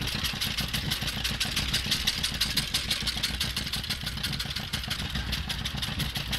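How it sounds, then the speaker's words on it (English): An old John Deere tractor engine runs steadily at a mid-pitched putt-putt idle while mowing a farm yard, close and continuous with no talk. "Man, I sure wish they made old John Deere's that sound like this still."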